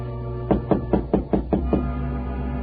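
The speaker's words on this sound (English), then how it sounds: "It was about a half hour later that I heard a tap on my door." A light tapping knock on a door in a radio-style audio drama, seven quick close raps in an even rhythm with no voices over them.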